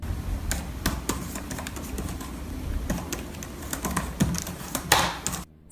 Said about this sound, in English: the typing is quite comfortable with deep travel and good feedback